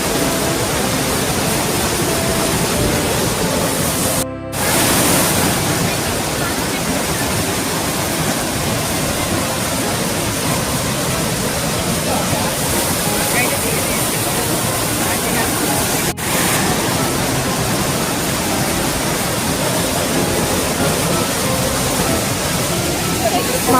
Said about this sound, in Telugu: చూసారుగా వాటర్ ఎంత ఫ్లోటింగ్గా వస్తుందో.